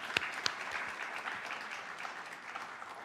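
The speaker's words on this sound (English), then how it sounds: "let's give that a round of applause" Audience applause at a Jackie Robinson Day 75th anniversary celebration, a steady wash of clapping from a crowd with a few sharp nearby claps at the start, sustained at moderate level throughout.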